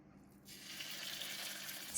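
Minced pork landing in hot garlic oil in a pan for Thai-style pineapple fried rice, a sudden steady hiss of frying that rises after a brief quiet start and holds close and loud.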